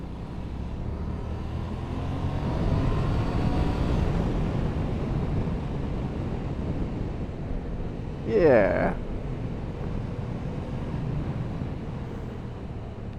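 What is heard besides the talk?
Yamaha MT-07 motorcycle engine while riding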